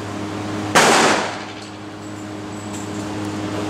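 A single sharp report from a Colt Government Model pistol at an outdoor range, loud and close, with its burst fading over about a second into a steady background hum.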